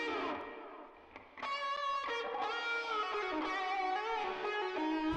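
An electric guitar plays a sustained, bright melodic line with bending notes, clean and fairly quiet, with no voices.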